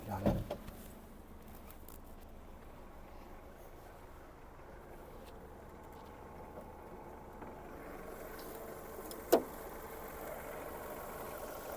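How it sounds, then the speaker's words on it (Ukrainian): A Skoda Fabia's engine idles with its air conditioning compressor running, giving a steady low mechanical hum with a faint tonal whine that builds partway through, and one sharp click near the end. "компресор запустився, тому все добре"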